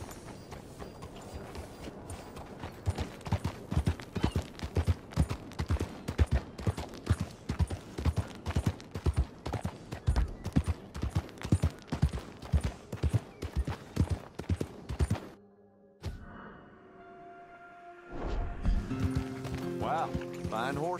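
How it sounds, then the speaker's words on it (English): Horse hooves clip-clop steadily in Red Dead Redemption 2, a fast even rhythm of sharp close hits that runs for about fifteen seconds and then stops, followed by quieter game sounds. "Wow, fine horse there."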